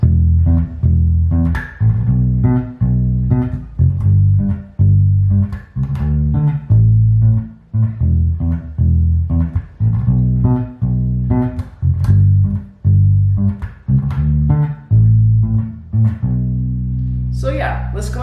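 Bass guitar, a Jazz-style electric bass, plays a bass line in a loud, punchy run of repeated low plucked notes with short gaps, played alone.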